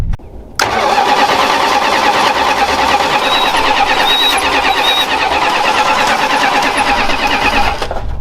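An old Mopar car that sat in the desert for 20 years cranks and quickly fires, its engine catching with an abrupt loud start and then running in a rough, steady, close-up idle until it cuts off near the end.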